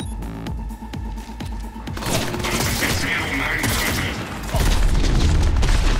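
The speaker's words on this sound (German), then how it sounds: "Ich muss hier wieder die Ketten sprengen" Explosions blast chains in Cyberpunk 2077: heavy booms and crackling bursts build into a loud, dense roar of blasts and debris that runs through most of the stretch.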